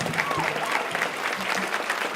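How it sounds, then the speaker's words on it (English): Steady applause from an audience at the naming ceremony of Anna Murray-Douglass Academy in Rochester, a dense, even patter of many hands that holds at a constant level for its whole length, with a few faint voices mixed in. "Let's give her a round of applause."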